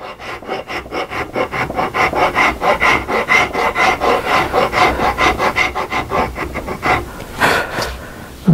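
A hand rasp files the wooden stock of a CZ 457 rifle up close, with quick, even back-and-forth strokes repeating at a steady rhythm before a brief pause near the end.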